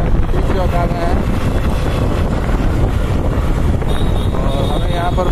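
A motorbike rides through the busy streets of Madhubani city, its engine and heavy wind rush forming a loud, constant roar throughout.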